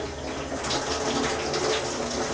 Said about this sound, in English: So get a little super hot water.